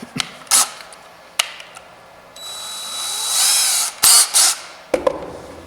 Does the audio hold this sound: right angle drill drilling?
yes